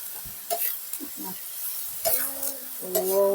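Stirring and sizzling of a sweet and sour stir-fry in a pan, with scraping strokes and clinks of the utensil against the pan in short bursts over a soft steady sizzle.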